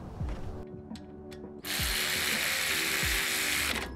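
A hand ratchet on brake caliper bolts of an off-road vehicle, a few slow clicks at first, then a rapid continuous buzzing ratchet run, close and steady, with no voices.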